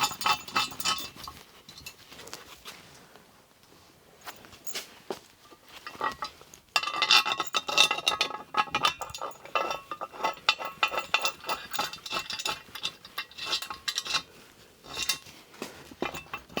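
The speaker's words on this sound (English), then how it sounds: "So these bolts just thread in like so." Bolts threaded by hand into freshly cleaned, paint-free holes on shop equipment, close metallic clinks, scrapes and taps in irregular bursts, with a quieter stretch early on before busier handling resumes.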